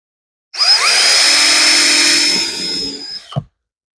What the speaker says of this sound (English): So I'm going to grab my drill real quick.